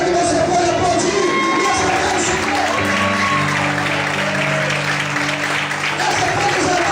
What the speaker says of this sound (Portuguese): Será que você pode aplaudir?